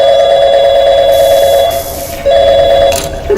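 Phone ringing tone in the Portal 2 video game, a steady electronic ring with a brief gap and a hissy burst near the end, loud and alone without talk.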